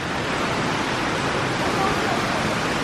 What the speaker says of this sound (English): Look, Jenny, waterfall.